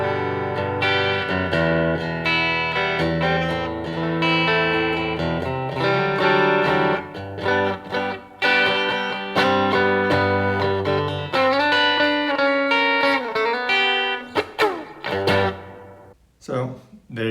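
Bridge pickup tones from a Squier Classic Vibe 50s Stratocaster electric guitar ring out as strummed chords and picked notes with bright, slightly driven character, loud and sustained, with a few choppy stops near the end.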